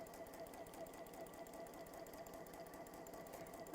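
A sewing machine runs a holding stitch on a fabric pouch, a fast even mechanical chatter of needle strokes, quiet and close, continuing steadily with no voices.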